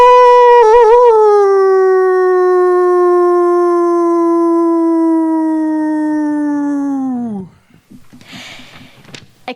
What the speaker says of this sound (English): It scans the scene, then howls at the moon.